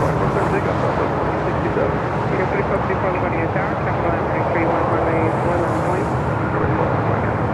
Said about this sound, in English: 7710 Dreamliner from Lisbon coming in.